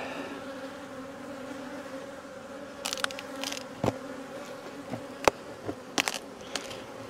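Honey bees humming in an opened beehive, a close steady buzz with scattered louder passes and a few sharp clicks from handling the hive.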